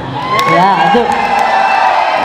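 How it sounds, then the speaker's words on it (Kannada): A crowd at a birthday celebration event in Davanagere cheering and whooping for a film director, a loud sustained roar of many voices with shrill shouts rising over it. "AP ಅರ್ಜುನ್ ಸರ್ಗೆ ಬರಲಿ ಒಂದು ದೊಡ್ಡ ಚಪ್ಪಾಳೆ"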